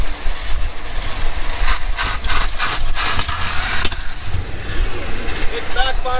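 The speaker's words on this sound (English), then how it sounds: "It's backfiring like crazy over here." Van rolling at about 25 to 30 miles per hour with its engine backfiring, sharp pops and bangs scattered over a loud continuous engine and road rumble, with someone talking over it.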